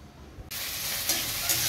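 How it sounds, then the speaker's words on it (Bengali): Okra frying in a wok, where a loud sizzle bursts in abruptly after a quiet moment and then holds steady and close. "কড়াইয়ে ভেন্ডি ভাজা হচ্ছে"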